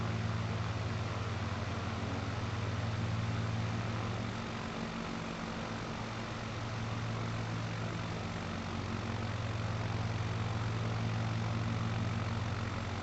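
Continuous propeller aircraft engine drone at reduced power during a slow descent near Wilson Airport, Nairobi, in Microsoft Flight Simulator 2020, a steady low hum with a faint dip in intensity midway.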